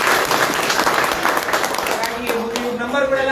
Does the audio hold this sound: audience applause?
yes